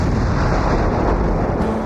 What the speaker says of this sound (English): They even use explosions to put out oil well fires.